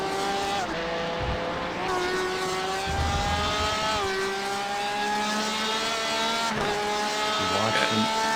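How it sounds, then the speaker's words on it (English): GTE sports cars racing at Circuit of the Americas roar continuously at high revs, engines rising and falling through gear changes as several cars fight closely, with a race commentator talking over the loud engine noise. "Pfeffer, Pisano, Swaby, 3-car fight. Could become 4 cars because that is Corona right up the road."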